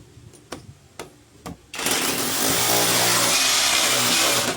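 An impact hammer drill bores into a wall: a few sharp knocks first, then the drill kicks in with a loud, sustained rattling hammer-and-whine close by.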